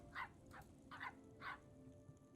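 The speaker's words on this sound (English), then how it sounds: "can I tame a stray puppy?" Stray puppy in the Oblivion video game giving four short, faint barks and yips at a steady pace over a quiet game ambience, with no talk.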